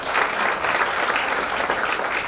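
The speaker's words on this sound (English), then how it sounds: "a big round of applause for all of you here today" A round of applause from students at a school mental health talk in Mumbai, a dense, even wash of clapping from a sizeable crowd that holds steady throughout.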